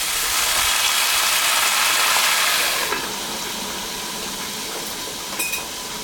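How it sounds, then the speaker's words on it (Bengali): A little water splashes into a hot pan of hilsa fish and bottle gourd curry, raising a loud, sustained hiss that drops sharply once a lid goes on, leaving a softer simmer and a brief clink. "সামান্য একটু জল দিয়ে ঢাকা দিয়ে দিই"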